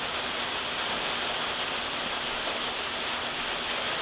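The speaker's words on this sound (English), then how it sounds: "Can you hear the rain?" Rain falls outside as a loud, unbroken wash of hiss, even and steady throughout, with no voices.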